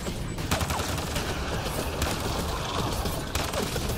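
Gunfire in the sci-fi shooter Mass Effect: Andromeda, a dense continuous barrage of rapid shots with sharp cracks punctuating a steady roar of battle noise, heard alone without voices.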